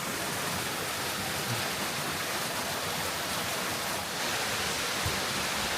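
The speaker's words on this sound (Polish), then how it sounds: "Kolejny wodospad." A waterfall in Slovak Paradise roars as a steady, dense broadband rush of falling water, continuous and close throughout, with no talking.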